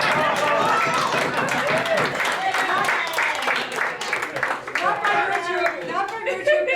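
Audience applause at a Queens borough board meeting welcoming a new councilman, scattered clapping from the room mixed with voices talking over it.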